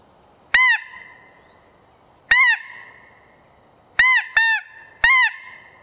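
Haydel's SN04 short reed snow goose call blown by hand, giving five sharp, loud honking yelps, close up, separated by pauses, with two notes in quick succession near the end.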